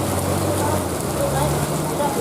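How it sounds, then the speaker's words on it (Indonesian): Steady broadband rain hiss fills the whole stretch, heard from inside a vehicle on a congested mountain road, with a low engine hum underneath and faint talk in the background. "Ada hujan bro."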